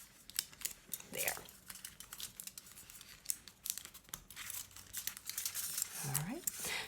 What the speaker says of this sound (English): We're going to tear it off, cut it off, right about